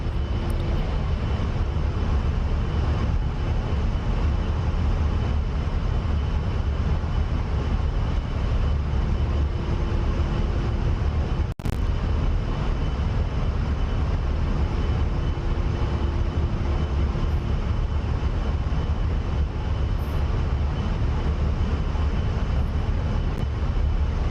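A heavily loaded A-10 jet in the DCS flight simulator drones steadily through the whole stretch, a loud, constant engine roar with a faint tonal whine coming and going and no talk.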